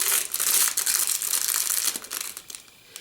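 Loud crinkling and crackling of plastic packaging being pulled open, close up, continuous at first then tapering into a few scattered crackles.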